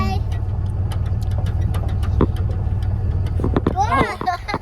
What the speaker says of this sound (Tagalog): Ayan na yung truck.